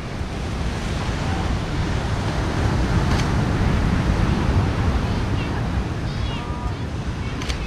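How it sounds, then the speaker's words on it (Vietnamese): Surf rolling in right beside a seaside homestay on the Phú Yên coast in Vietnam, a continuous loud wash of waves with wind noise and a few faint higher sounds over it. "Biển đã quá, sát biển luôn, homestay sát biển luôn."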